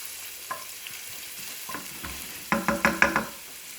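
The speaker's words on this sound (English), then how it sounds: "So just let those for a saute just for a minute or so before we add the other vegetables" Carrots sautéing in a pan for a pasta jardiniere, with a soft frying hiss and a run of sharp stirring scrapes and clatters near the end, close and fairly quiet, no talk.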